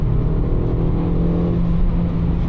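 A Suzuki Swift Sport engine revs high under steady load while driving along a twisty road, a loud continuous drone with strong low harmonics filling the cabin throughout.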